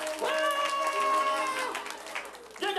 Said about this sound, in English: Come on, they're clapping for you.